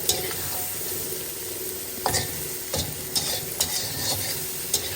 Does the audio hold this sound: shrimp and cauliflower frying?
yes